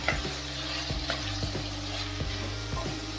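Black salt is stirred into carrots and peas frying in a pan for a spiced vegetable dish: a continuous sizzle with regular spoon strokes scraping the pan, close and clear, no talking.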